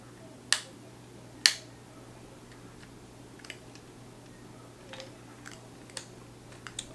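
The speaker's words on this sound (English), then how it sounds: "hold that shutter open and it stay open as long as possible" An Olympus film camera shutter on bulb setting: two sharp mechanical clicks close together near the start, followed by a few faint, scattered ticks in a quiet room with a low hum.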